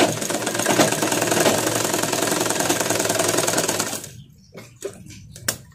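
A sewing machine stitching with two-ply thread runs at a fast, steady mechanical clatter for about four seconds, then stops, leaving a few faint clicks and handling sounds.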